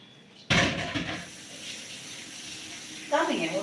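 Water suddenly gushes from a running tap into a sink as hands are washed. It flows steadily, then splashes more loudly near the end.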